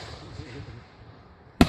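One sharp firework blast cracks loudly near the end of a fireworks night, after a stretch of quiet low rumble from distant bursts.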